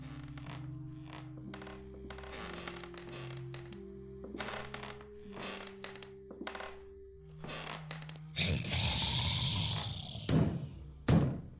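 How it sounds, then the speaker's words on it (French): Heavy irregular thuds from a creature banging on a bedroom door come in bursts over a low tonal drone, followed by louder rumbling impacts near the end. "Elle tape sur la porte."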